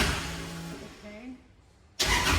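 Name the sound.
race car engine revving as driver gives it gas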